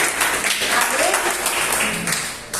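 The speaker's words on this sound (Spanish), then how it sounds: "Den un fuerte aplauso al Señor" A church congregation applauds the Lord in a loud, sustained burst of clapping that tapers at the end, with voices mixed into it.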